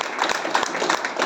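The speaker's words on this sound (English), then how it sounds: "let's have a big round of applause for all those people" A short, lively burst of applause from a meeting audience after an evaluation session, with many hands clapping at once close up.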